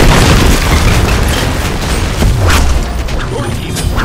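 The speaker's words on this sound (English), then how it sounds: "Your team has destroyed a middle enemy tower." A middle enemy tower crumbling in the video game Smite, a loud dense booming rumble that runs continuously under layered game effects.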